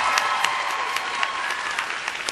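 Judge and studio audience applauding a Lindy hop routine on a televised dance competition, a steady wash of many hands clapping with occasional sharper claps standing out, continuous and fairly close.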